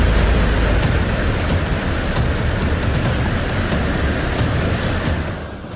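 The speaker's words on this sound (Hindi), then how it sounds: "हाहाकार मचाती लहरें।" Tawi river in Jammu in flood, its waves roaring as one loud, continuous rush of churning water throughout, with no voices.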